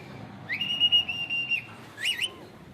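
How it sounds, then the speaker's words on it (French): Shrill crew whistle signals aboard a canal boat in Bangkok, directing the driver: one long steady blast, then a brief warbling second call over low engine rumble. "Pour guider les manœuvres, tout se passe à coups de sifflet."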